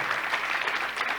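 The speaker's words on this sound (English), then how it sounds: "So can we have a big round of applause?" Audience applause at a conference summit, a dense, even wash of many hands clapping at moderate distance, continuous through the short stretch with no voices.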